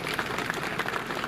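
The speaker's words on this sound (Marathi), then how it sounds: "त्यांना एकदा जोरदार टाळ्या वाजवा." Crowd at a political rally in Akluj bursting into a steady round of applause, a thick, even wash of many hands clapping throughout.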